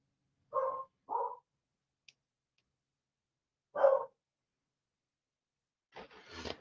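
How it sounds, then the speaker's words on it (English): A dog barks at someone wanting in at the front door, giving two quick barks, then a single louder bark after a pause, followed by a soft scraping or rubbing sound at the end. "I don't know what she's barking at."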